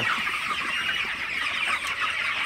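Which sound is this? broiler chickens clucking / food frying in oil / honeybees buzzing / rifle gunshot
broiler chickens clucking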